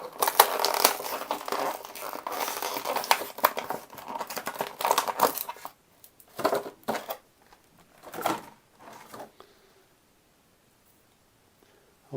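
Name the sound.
unpacking collectible figures from plastic packaging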